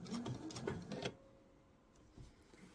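A sewing machine stitches fabric for a laptop sleeve near the edge of the cloth. A short, faint burst of rapid mechanical clatter lasts about a second, then gives way to near silence.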